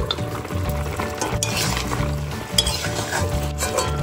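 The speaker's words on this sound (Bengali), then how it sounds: "শিমটাও এখানে হালকা এরকম ভাজা ভাজাই করলাম" Flat beans and pointed gourd frying lightly in a pan while being stirred, a close steady sizzle broken by repeated scraping and clinking of utensil on metal, with no one speaking.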